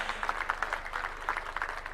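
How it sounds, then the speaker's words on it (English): Hand clapping rings out from an audience at a school centenary celebration honouring the President, a brisk, rhythmic burst of claps heard close and fairly loud. "A round of applause for His Excellency."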